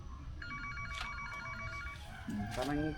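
An electronic phone ring trills in short bursts behind ongoing conversation and background noise, fairly faint and partly buried under the voices.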